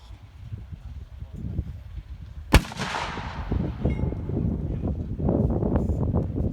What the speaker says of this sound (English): a Pack 40 fires on those advancing Allies